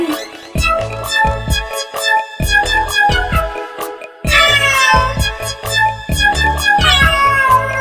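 Repeated meowing from a cat in a Hindi children's nursery rhyme, over a bouncy melodic tune, the meows coming in quick bursts throughout, loud and close.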